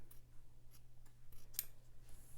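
Scissors snip through fabric while trimming a shirt's shoulder seam allowance, giving a few crisp, close cuts spaced across a quiet room with a steady low hum underneath.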